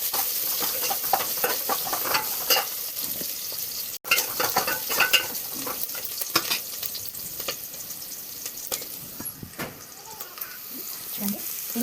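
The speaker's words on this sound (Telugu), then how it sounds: "ఆనియన్స్ గోల్డెన్ బ్రౌన్ అయ్యే వరకు వేసుకోవాలి" Onions frying in a pan until golden brown for a dondakaya munakaya curry, a steady close sizzle broken by scraping stir strokes and utensil clinks throughout.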